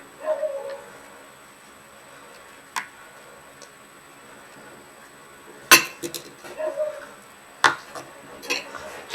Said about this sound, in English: I would like to mix in my yogurt now.